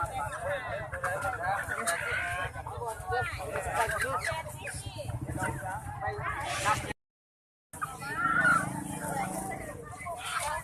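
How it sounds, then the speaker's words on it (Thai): Chickens and ducks for sale at the Pakse morning market in southern Laos, occasional clucks and honks mixed into busy crowd chatter and close-up talk, with a short gap of silence. "มีเป็ด มีเป็ด มีไก่มาขายด้วย"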